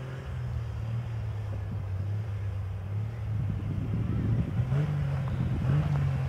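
A Jeep XJ Rubicon engine drones steadily while descending a very steep hill, the pitch rising briefly twice as the throttle is pressed, with a low rumble throughout.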